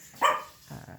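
A small dog barks once indoors, fairly close, followed by a softer, lower whimpering sound.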